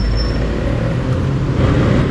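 A Kawasaki Bajaj CT100 motorcycle engine runs after a push start, a steady low rumbling idle close by with a faint whine above it and no talk over it.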